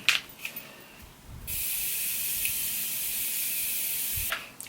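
Makeup setting spray is misted onto a face in one long, steady hiss lasting a few seconds, preceded by brief soft handling noises. It is fairly quiet and close, with no talk.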